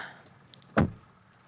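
The rear door of a 2025 Tata Altroz shuts once with a single solid, close thud, followed by quiet; no speech is heard.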